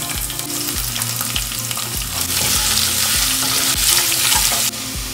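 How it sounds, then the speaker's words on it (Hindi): Onions frying in a pan with bay leaves and cumin, a steady loud sizzle with regular stirring clatter and scraping throughout, close and alone without talk. "ऑनियंस, बेल पेपर, ये सब कुछ साथ में फ्राई हो रहा है"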